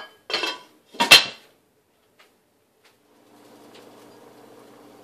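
Two sharp metallic clatters of a lid landing on a pot of simmering butter chicken puree, close by, then quiet with a faint low hiss in the background.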